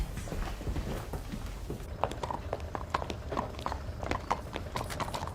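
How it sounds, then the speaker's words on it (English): Horse hooves clip-clopping on a forecourt, a steady run of sharp, fairly close knocks that keep an even walking rhythm throughout, with faint background noise and no talk. "I shall have to ask you to remove your horse from my forecourt forthwith"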